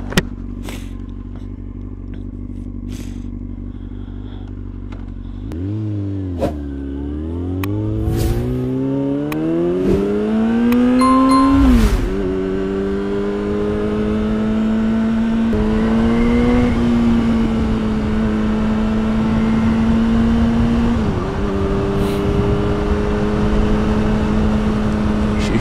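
A freshly tuned motorcycle pulls away on the road, its engine rising in pitch through gear changes, loud and close, with steady road rumble and clatter and no one talking.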